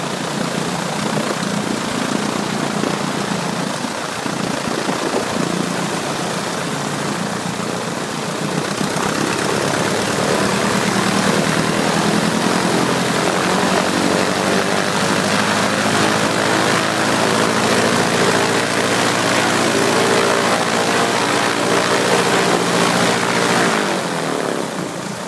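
A small Ercoupe airplane's engine and propeller run steadily through a run-up, a loud continuous drone that rises in power midway before easing off near the end, with no talk over it.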